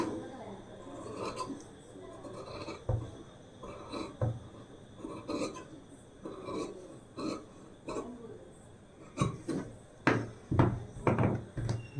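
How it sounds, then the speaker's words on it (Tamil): Scissors cut blouse lining fabric along a marked line, producing a run of crisp snipping clicks in irregular bursts that grow sharper and more frequent toward the end, with faint speech in places. "இப்போ மார்க்கில் கட் பண்ணி எடுத்தாச்சு."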